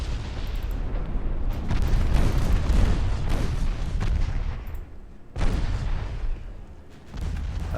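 Warship guns firing in Ultimate Admiral Dreadnoughts, a loud rolling barrage of booming artillery with overlapping blasts, a brief lull, then another heavy salvo.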